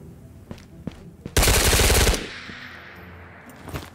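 A rapid automatic burst of gunfire in the VR shooter Ghost of Tabor, loud and close, lasting under a second, with a few isolated shots and clicks around it.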